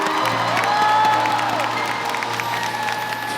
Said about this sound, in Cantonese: 都唔及你哋嘅掌聲同埋歡呼聲